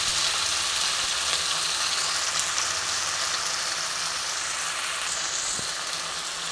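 Ginger and onion paste with spices frying in a pan for an ajwain chicken dish, giving a steady, close sizzle that holds evenly throughout with no talking.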